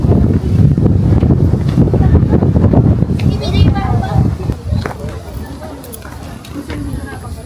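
Strong wind buffets the microphone in heavy gusts at Tagaytay Picnic Grove in the Philippines, with a low roar throughout and a voice talking briefly in Filipino partway through.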